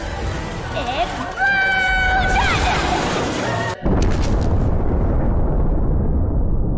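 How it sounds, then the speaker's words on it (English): A rising magical whoosh builds with tonal sweeps, then cuts to a roaring explosion-spell blast from the anime Konosuba that fades into a long rumbling decay; voices are mixed in. "Megumin hits it with a second explosion"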